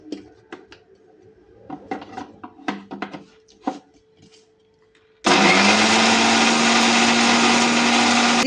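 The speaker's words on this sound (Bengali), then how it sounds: "জিরা গুলা আমার গুঁড়া হয়ে গেছে" Electric spice grinder pulverising shahi cumin and regular cumin: a loud, steady motor whine with a grinding rasp starts abruptly about five seconds in and runs unbroken to the end, after quieter kitchen clatter.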